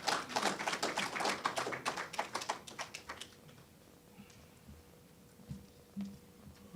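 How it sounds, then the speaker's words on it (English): Audience applause at an MOU signing ceremony in the Finance Administrative Centre: a dense burst of clapping from a gathered crowd that thins out after about three seconds into a quiet room with faint scattered noises. "Round of applause, please"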